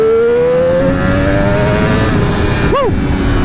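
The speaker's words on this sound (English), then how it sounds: "this is what it's like to max it out wide open throttle" A Triumph Daytona 765 Moto2 motorcycle is held at wide open throttle, its engine note climbing steadily in pitch through the revs, loud and close, with a brief squeal near the end.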